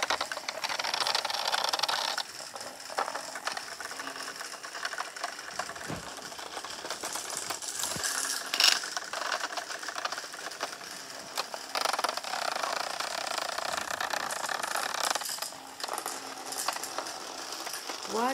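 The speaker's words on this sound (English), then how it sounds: "Next race, next hexbug race maze." Several small battery-powered Hexbug toys buzz and rattle continuously through a plastic race maze, a dense mechanical clatter like a sewing machine with occasional clicks and bumps, fairly close and steady.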